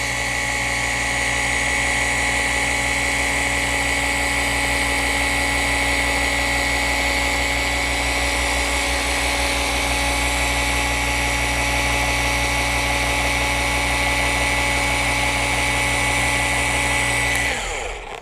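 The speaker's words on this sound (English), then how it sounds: "Keep the polisher moving, don't hover in one spot." A polisher buffs wiper marks and scratches on an automotive windshield, running as a loud, constant high-pitched motor whine with a steady hum beneath, close and unbroken until it cuts off at the end.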